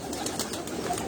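A Sialkoti pearl pigeon coos softly in a short, low burble, close by with faint background noise.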